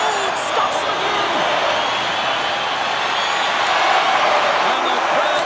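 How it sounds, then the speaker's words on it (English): A stadium crowd in the NHL 25 hockey game roars with cheers and applause at a Stanley Cup presentation between the Edmonton Oilers and Boston Bruins, a dense, steady wash of noise that holds loud throughout. "And the crowd's on their feet, saluting the team after a hard-fought effort this evening"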